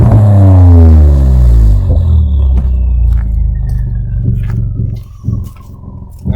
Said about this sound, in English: So I'm going to give a few wide open throttle gas so you could hear the before and after.